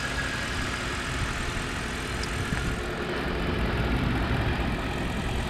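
The 4.6 liter V8 of a 2009 Ford F150 XLT idles with a steady, low rumble that stays even and close throughout, with no voices.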